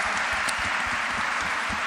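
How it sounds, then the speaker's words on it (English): A conference audience applauds presenters on stage at a start-up challenge finale, producing a steady, dense wash of clapping throughout. "So really big round of applause for all our people on the stage"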